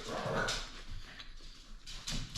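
A dog whimpers and yelps in short, high-pitched bursts, fairly close, with a few louder cries near the start and the end.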